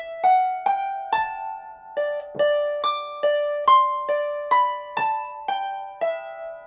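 A harp plays a whole phrase from a tune as a steady run of about a dozen plucked notes, each ringing briefly before the next, heard up close with no talking.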